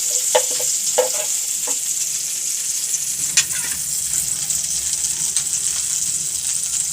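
Butter with a little oil sizzles in a pan, a steady bright hiss close by, dotted with occasional light taps and scrapes of a spoon.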